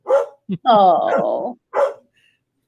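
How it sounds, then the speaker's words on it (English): A dog barks a few times close by in a home during an online conversation, with a short spoken exclamation between the barks. "Who's that barking?"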